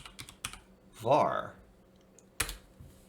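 Someone typing on a computer keyboard, a short run of quiet key clicks followed by a firmer single press, close and faint with a brief voice in between.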